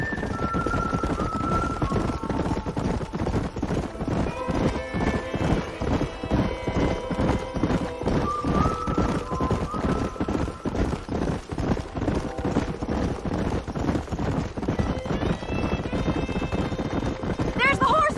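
Horses in the video game Red Dead Redemption galloping with rapid rhythmic hoofbeats, loud and continuous, with whinnies rising over them and voices talking alongside.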